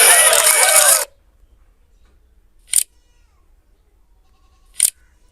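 Free camera shutter sound effects: two short, sharp clicks spaced about two seconds apart against near silence, following a brief burst of a louder, different sound at the start.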